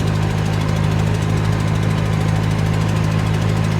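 A 1920s vintage car engine runs steadily in third gear while climbing a hill, giving a continuous loud, rumbling drone with a low hum and rough knocking texture throughout, with no talk.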